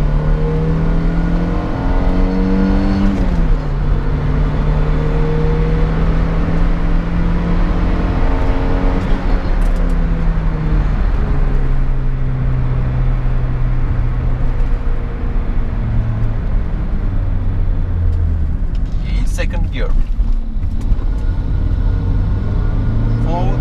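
A Renault Clio 1.6 8V engine pulls hard in second gear, revs climbing steadily from inside the car with a few shifts and a droning exhaust, while someone talks intermittently over it.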